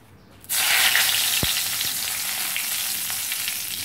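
Bay leaf dropped into hot mustard oil in a kadhai, a sudden loud sizzle that starts at once and keeps up as a steady hiss with a few faint clinks, and no speech.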